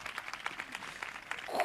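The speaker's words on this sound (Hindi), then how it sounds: "ताली मारो जोर से।" An audience at a church festival gathering claps, a faint, brief burst of scattered applause with uneven hand claps.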